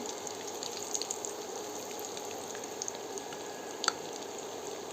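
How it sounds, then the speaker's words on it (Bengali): Egg-and-potato chops fry in oil, producing a continuous, even sizzling hiss at moderate volume with a couple of faint clicks, with no voices. "আমার এগুলো ভাজা হয়ে গেছে, এখন আমি এগুলো উঠিয়ে নেব।"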